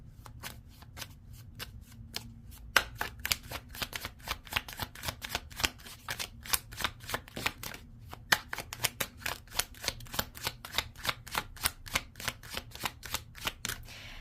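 Tarot cards are shuffled by hand close up, a long run of rapid, crisp riffling and flicking snaps in a steady rhythm, with a soft low hum underneath and no speech.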